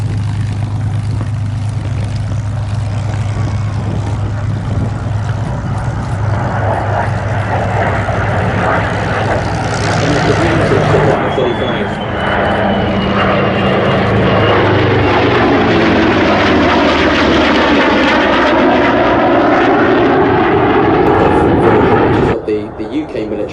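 An F-35A fighter jet flies past at an airshow, its loud roar swelling and sweeping in pitch as it passes overhead, then fading, with a steady rumble throughout.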